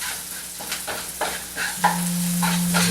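Onions and spices sizzle in a pan for an Indian spiced chickpea dish, a bright continuous hiss with occasional stirring clatters and a faint steady hum underneath, close and moderately loud.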